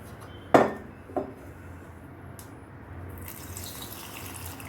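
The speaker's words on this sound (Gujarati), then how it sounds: "હવે એમાં થોડું પાણી આપણે એડ કરીશું" A couple of clinks against a bowl, then a soft, steady rush of water being poured in over chaat masala and chili powder for a summer drink, close and moderately quiet.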